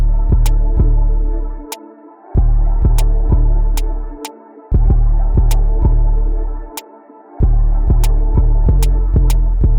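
A Detroit-style trap drum beat made in FL Studio, with loud, booming, short bouncy 808 bass notes, sharp snare hits and bright ticking hi-hats repeating in a steady bouncy pattern, interrupted by brief drop-outs.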